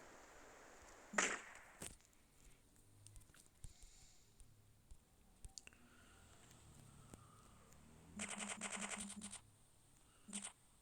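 In GTA San Andreas on mobile, an M4 rifle fires during a raid on a military base: a single crack, then a quick burst of rapid shots, then one more shot, quiet and fairly distant amid game sounds.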